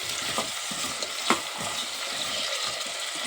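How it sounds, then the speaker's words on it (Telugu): Carrots and tomatoes frying with potatoes in a pan for brown rice khichdi, stirred with a spoon: a steady close sizzle with a few sharp scraping strokes, no talking. "క్యారెట్ టమాటోస్ ఇవన్నీ వేసుకుని కాసేపు మగ్గనిద్దామండి"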